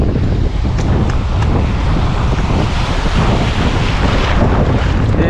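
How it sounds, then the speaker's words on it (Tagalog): Ocean waves wash onto a shore during shore casting in the Philippines, a loud continuous roar of surf mixed with heavy wind buffeting, with no voices. "Oops, alon."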